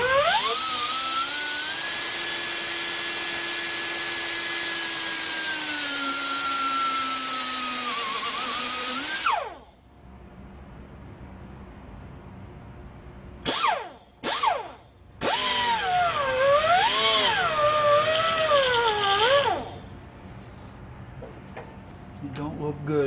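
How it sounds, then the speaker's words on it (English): An air tool with a cutoff wheel cuts AN-6 fitting hose for a 1970 Pontiac LeMans/GTO. A steady high whine runs close and loud for about nine seconds and cuts off, followed by a few short bursts and another wavering whine. "you can use a air tool and a cutoff wheel"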